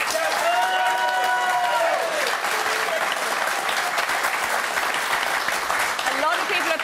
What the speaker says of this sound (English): a lot of people applauding, a lot of people sitting on their hands